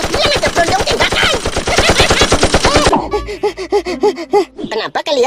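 Rapid machine gun barrage in an animated cartoon, dense evenly spaced bursts for about three seconds that stop abruptly, followed by cartoon voices and exclamations.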